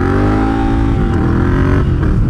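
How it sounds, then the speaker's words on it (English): Ducati Scrambler Desert Sled motorcycle engine pulling hard during wheelies, a loud, close, continuous roar with steady harmonic drone and slight pitch shifts as the throttle holds, no talk. "Another thing I really enjoy about the Desert Sled is it just loves doing wheelies."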